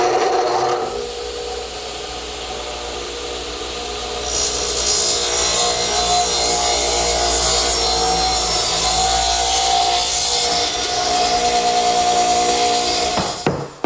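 A table saw rips a wooden piece held with its angled side against the rip fence: a motor hum rises into a loud, continuous cutting whine for most of the stretch, then drops off abruptly at the end.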